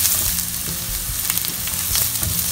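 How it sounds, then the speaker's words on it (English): Ginger and garlic sizzle steadily in about two tablespoons of hot oil while being sautéed for Chicken Manchurian, a continuous crackling fry with faint scrapes of stirring and no voices. "saute ginger and garlic for 1 minute"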